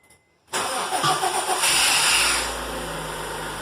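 A Honda D17A2 engine fitted with a D16Y8 camshaft cranks and catches after a brief quiet start, then settles into a loud, even idle that holds steady close by.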